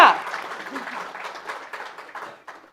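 An audience at a stage event featuring an actor breaks into applause, a loud burst of clapping that settles into steady moderate clapping, with voices speaking over it.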